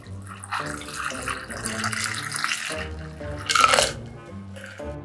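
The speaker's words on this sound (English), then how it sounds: "We're gonna strain this into a foam glass." A Long Gunner Grog cocktail is strained into a foam glass as a light, trickling pour with a brief louder splash near the end, over soft background music.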